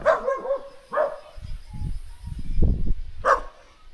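A small dog gives a few sharp, nearby barks at the start and again near the end. A low rumbling background fills the gaps between them.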